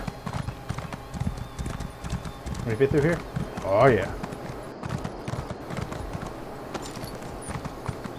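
Horse hooves clip-clop steadily in Elder Scrolls Online as a mount trots through a game town, with a whinny-like burst mid-way, all under someone talking over the gameplay.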